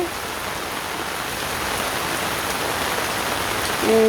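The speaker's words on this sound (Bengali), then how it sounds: "বৃষ্টি" Steady rain pattering on a surface, a dense even hiss that holds throughout and swells slightly at the end, with no voices.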